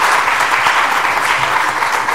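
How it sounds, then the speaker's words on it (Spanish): An audience at a talk on the Guayabo National Monument applauds, a dense and even wash of many hands clapping that stays steady and fairly loud throughout. "Un aplauso para Rodolfo."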